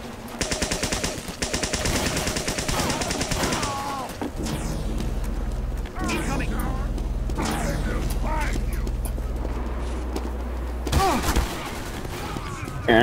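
Video game minigun letting loose in long, dense mechanical bursts of rapid fire with whirring and ratcheting, a deep droning run through the middle, and voices talking over it.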